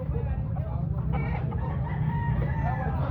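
A rooster crows at a gamecock expo in Carbon Public Market, a drawn-out call heard amid a busy market murmur of voices and other birds.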